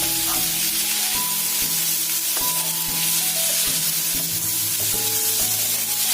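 Onions and tomatoes sauté in a pan for a crab gravy with a loud, steady sizzle up close. Intermittent clinks and scrapes of a stirring utensil sound over it, and no one speaks.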